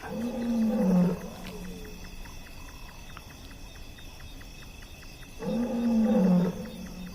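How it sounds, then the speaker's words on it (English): A male lion roars at night on the Zambian plains: two deep, powerful bouts of grunting roars separated by several seconds of quiet, with insects trilling steadily in the background. "Distant roars echo through the cool night air. Their male is calling"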